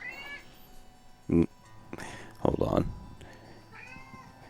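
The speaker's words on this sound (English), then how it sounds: "Kitty wants attention." A house cat meows for attention, a few close, clear meows with rising and falling pitch, alternating with brief bits of a man's speech.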